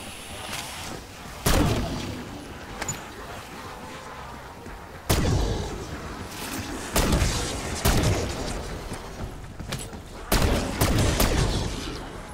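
Pistol fire in a Black Ops 6 Zombies game, several sharp shots spaced irregularly over a quiet background, loud and close.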